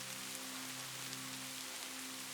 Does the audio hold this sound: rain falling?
yes